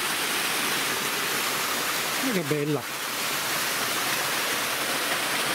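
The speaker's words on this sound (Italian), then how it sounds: "La cascata" Steady broadband rush of a waterfall pouring over rock, heard about 100 metres below during an outdoor walk, constant and fairly close, with a brief exclaiming voice over it midway.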